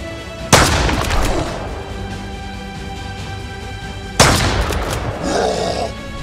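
Two loud, close shotgun blasts ring out in the survival video game Mist Survival, a few seconds apart, each with a sharp attack and a rumbling tail over game ambience.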